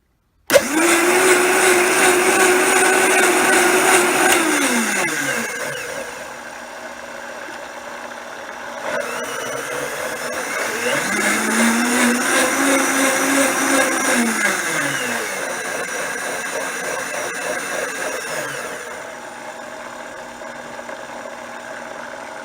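A Vitamix blender runs steadily after a brush and speed-control repair, its loud motor whine rising and falling as the speed changes and pausing briefly between runs, close and alone.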